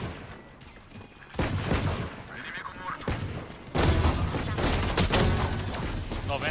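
Rapid bursts of video game gunfire during an online shooter match with grenades, loud and near, sustained volleys with brief gaps, while a player talks over the action.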